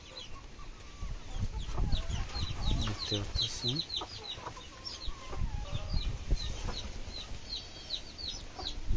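Chickens cluck and chatter continuously in a farm shed, many birds calling at once, with a voice speaking briefly over them.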